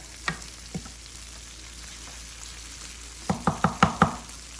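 Shrimp frying with vegetables in a hot pan, a quiet sizzle with a couple of soft taps, then a quick run of five sharp utensil knocks against the pan near the end, close and without speech.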